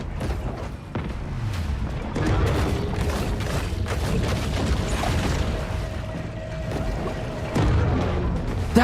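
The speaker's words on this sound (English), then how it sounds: "Okay, y'all got torpedoes now. That's a torpedo!" Dull, booming torpedo blasts rumble underwater in Maneater Truth Quest, a steady low roar of explosions and churning water running for several seconds with a heavier burst near the end.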